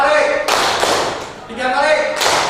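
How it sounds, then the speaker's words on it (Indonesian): A primary school class claps hands together on a teacher's cue, with bursts of group clapping between a man's spoken instructions. "Coba tepuk satu kali."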